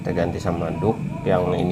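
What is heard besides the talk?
No everyday noises stand out.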